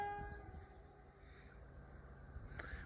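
A train passing Whitfield level crossing on the South Eastern Main Line sounds its two-tone horn, faint and distant, fading at the start over a low rolling rumble and quiet outdoor background.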